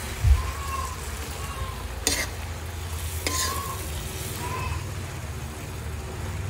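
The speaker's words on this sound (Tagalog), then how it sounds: "Ayan po, igigisa natin sa sardinas." Alugbati greens are sautéed with sardines in a pan, a steady close sizzle with occasional scraping stirs of a spatula and a few sharp knocks against the pan, no talk.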